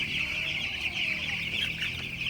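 Young broiler chicken chicks on a poultry farm give a dense, continuous chorus of high peeping, close and steady throughout.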